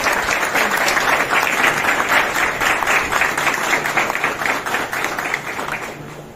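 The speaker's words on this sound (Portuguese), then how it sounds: "uma salva de palmas." Guests applaud at a golden wedding anniversary celebration, close, loud steady clapping from a group that holds evenly and then tapers slightly toward the end.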